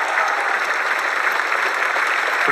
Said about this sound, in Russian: Диана Анкудинова, ваши бурные аплодисменты.